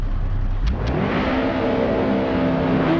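Race cars launching off the grid at the Red Bull Ring in Assetto Corsa, engines revving hard and climbing through the gears, a loud close-up roar with shifting tones over several cars.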